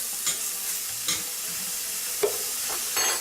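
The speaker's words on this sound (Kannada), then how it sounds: "ಶುಂಠಿ ಬೆಳ್ಳುಳ್ಳಿ ಪೇಸ್ಟ್ ಹಾಕ್ತಿದ್ದೀನಿ," Ginger garlic paste sizzling in a little hot oil in a cooking pot, a steady soft frying hiss broken by a few light clicks and scrapes of a spoon, close and moderately quiet, no voices.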